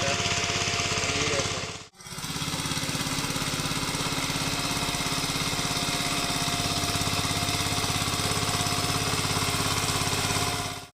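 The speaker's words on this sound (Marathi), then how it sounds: "आता मी ट्रॅक्टर करतोय" A tractor engine running in a field during rice sowing work gives a loud, close, steady droning rumble that cuts out briefly near the start, then runs on unchanged until the end.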